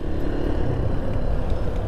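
A Hero Xpulse 200fi motorcycle at about 10,000 km idles with an engine rattle that may come from the clutch plates, a continuous close, dense mechanical drone with no speech over it.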